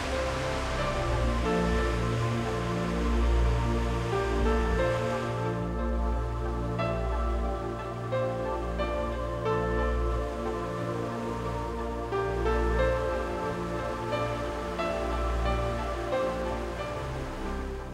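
Philomène falls near Amqui, Quebec, a waterfall about a hundred feet high, giving a steady, full rushing roar of falling water that continues unbroken and alone.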